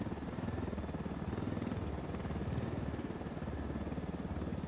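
Helicopter flying in the video game Ghost Recon Wildlands, its rotor a steady, rapid thudding chop under a continuous engine drone, moderately loud and alone.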